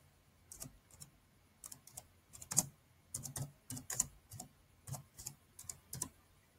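Soft, close typing on a computer keyboard comes in short irregular bursts of clicks with small pauses between them, and no voice is heard.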